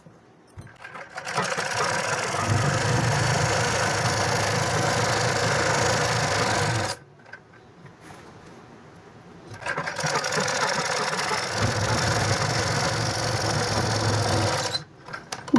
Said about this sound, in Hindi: इस तरह से पूरे में सिलाई लगा देंगे।